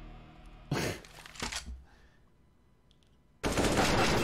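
Gunfire in the video game CS:GO: a loud close automatic burst, a few scattered quieter shots, then another sustained, dense burst of rapid fire at the end, no talk.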